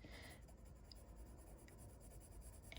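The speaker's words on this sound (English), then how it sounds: "You're using the side of the pencil again, and you're going back and forth" The side of a graphite pencil shades back and forth across paper in a steady, faint scratchy rhythm, close up and quiet with no speech.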